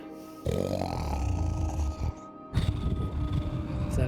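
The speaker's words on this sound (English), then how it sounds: "Loud ass snoring." Loud, rough snoring from a sleeping person, two long drawn-out snores with a brief pause between them, close and heavy with grunting, snorting texture.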